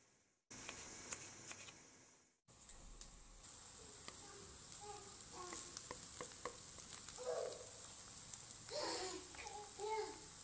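Diced peeled tomatoes hit a hot frying pan and sizzle softly, a low hiss with scattered crackles and stirring clicks after a short quiet start.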